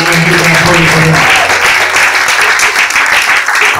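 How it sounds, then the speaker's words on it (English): A church congregation claps hands in loud, sustained applause, dense and close, with a voice briefly audible at the start. "clap hands for this family"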